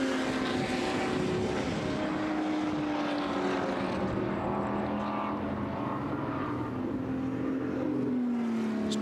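Group 5 race cars sweep past at high speed during a demonstration run at 74MM, a loud continuous engine roar with a falling pitch sweep as one car passes close by.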